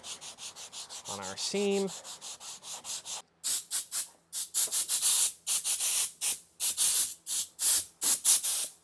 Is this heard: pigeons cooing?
no